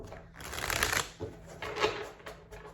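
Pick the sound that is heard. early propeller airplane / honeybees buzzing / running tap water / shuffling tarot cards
shuffling tarot cards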